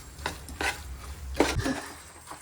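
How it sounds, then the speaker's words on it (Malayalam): Chicken with garam masala and chicken masala being stirred in a cooking pot, a few distinct scraping and clinking strokes of a spoon against metal, close and uneven, with no talk. "ചിക്കൻ നല്ലപോലെ ഇളക്കുകയാണ്."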